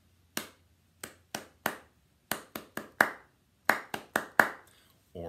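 Hands clap out a rhythm pattern in a quiet room, about a dozen crisp, close claps in uneven groupings with short gaps, followed by the start of a voice.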